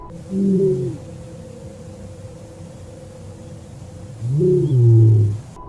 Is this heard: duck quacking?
no